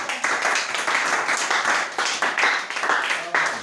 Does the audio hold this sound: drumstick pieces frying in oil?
no